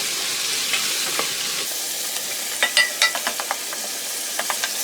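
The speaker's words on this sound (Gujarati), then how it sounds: "એને ફેરવતા જઈએ અને આપણા મસાલાને કૂક કરીએ" Dry masala with a little added water cooks in a pan for bhindi masala, a continuous soft sizzle broken by a quick run of sharp spatula scrapes and taps against the pan, close up.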